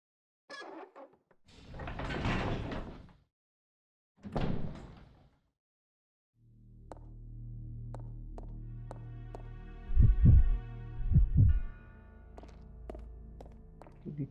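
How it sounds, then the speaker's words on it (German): Inside a video game, a locked door rattles and thunks as it is tried, with a couple of heavy knocks and rustling movement over a low ambient hum. "Die Tür ist abgeschlossen."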